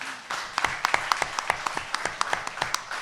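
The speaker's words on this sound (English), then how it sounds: "Big round of applause for Josh." Applause for Josh at a live grand finale event: a modest group clapping in distinct, rhythmic claps of moderate loudness, the individual hand strikes clearly separated.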